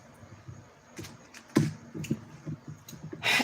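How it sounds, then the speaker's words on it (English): Tarot cards shuffled by hand at close range, giving a run of soft, irregular papery clicks and riffles with a sharper burst near the end, heard alone with no talking. "You see me shuffling."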